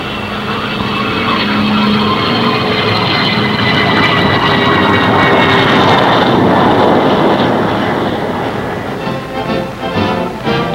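A single-engine Banshee Navy jet fighter flies toward its home base with a loud, continuous roar that swells in the middle and then fades slightly as it passes, with no talking over it.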